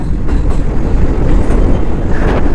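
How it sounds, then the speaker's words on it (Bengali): A passing goods train heading toward Howrah in West Bengal gives off a loud, steady, close rumble of rolling wagons that continues throughout, with no talk. "এটা আমাদের হাওড়ার দিকে যাচ্ছে ট্রেনটা"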